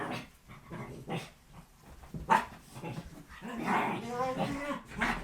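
A dog playing in The Sims 2 video game barks, yips and pants in short bursts over a low game background, moderately near.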